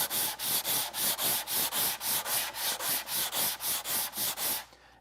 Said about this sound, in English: I usually go over it again with a cork sanding block